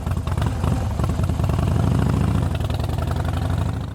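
A Harley-Davidson Low Rider motorcycle engine running close by, a loud, deep, throbbing rumble with a pulsing rhythm that holds steady throughout, with no talk over it.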